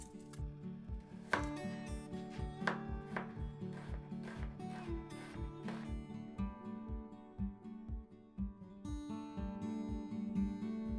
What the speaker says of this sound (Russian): Сразу же очищаю и режу перьями 2 луковицы